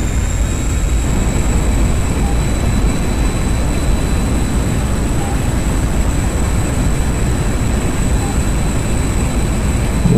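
A MiG-21bis jet roars through an afterburner takeoff in DCS World, a dense, continuous low rumble with a thin high whine running steadily at full power throughout.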